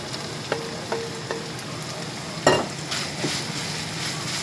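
Minced beef and vegetables stirred in a frying pan for a curry, a steady low sizzle with a few soft scrapes and clinks of the utensil against the pan, no one talking.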